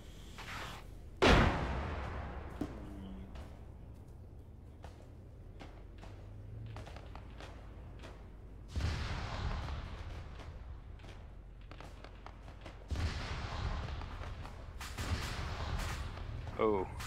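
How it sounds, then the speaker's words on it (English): Incoming gunfire and artillery in the military video game ArmA 3 arrive as scattered cracks and a few heavy booms, some distant and some close, with voices talking over the action. "Shots coming in."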